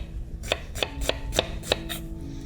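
Knife chopping onion finely on a board: six crisp, evenly spaced strikes about every third of a second, close and clear, with no talking.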